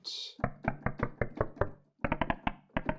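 Serum synth noise oscillator alone: short percussive noise bursts in a quick rhythmic pattern, like clicky knocks played as notes, with a brief hiss at the start and a short pause midway.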